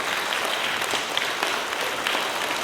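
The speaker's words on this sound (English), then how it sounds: "Let's give another wonderful thank you applause to Century Concert Choir" Sustained applause from a school audience thanking the Century Concert Choir, a full, even wash of clapping that holds steady from start to finish.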